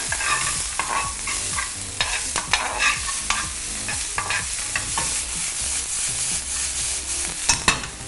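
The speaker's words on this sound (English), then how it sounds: "we're just going to turn this around until we're sauteing it" Vegetables and seasoning for hash sizzle in a hot pan while being stirred and turned, a loud continuous frying hiss broken by close scraping and clattering stirs.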